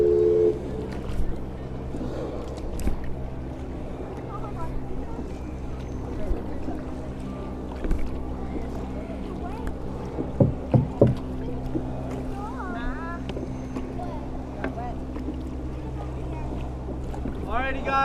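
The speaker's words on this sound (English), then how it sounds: "I should have flipped the camera on me so you guys can see how I gotta paddle." A canoe is paddled on the water at Disneyland, with occasional splashes and knocks under steady wind noise and a low engine drone, plus a few faint voices nearby.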